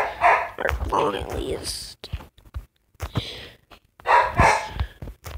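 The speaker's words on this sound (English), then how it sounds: "that dog's annoying. She never shuts up." A dog barks several times in short loud bursts, close by, with quiet speech and silent gaps between the barks.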